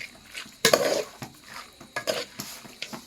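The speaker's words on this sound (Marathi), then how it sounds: "फायनली ना मटण टाकलंय तो परतून घेऊया" Mutton being stirred in a pan, with a sharp metallic scrape and clatter early on, then several lighter scraping and knocking strokes at an uneven pace, fairly close.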